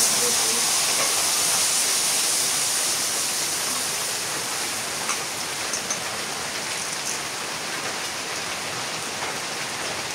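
Rice sizzling in hot oil in a pan while khichuri is being made with goat meat, a dense steady hiss that starts loud and gradually eases over the span, with no voices heard.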